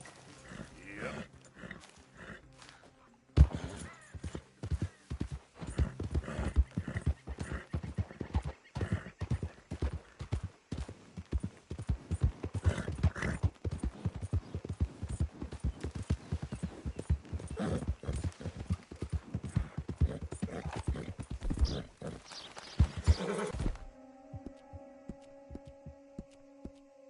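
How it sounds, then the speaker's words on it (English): Horse hooves clip-clop steadily on the ground in Red Dead Redemption 2, a close, busy rhythmic patter running for most of the stretch with an occasional whinny and low hum, then stopping before a quiet tonal ending. "Hey, mister, that's one nice-looking horse you got there."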